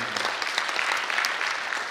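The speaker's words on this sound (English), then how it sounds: "Please give applause to Agus." Audience applause at a conference on peatland restoration, a short, moderately loud burst of many hands clapping at a steady density from start to finish.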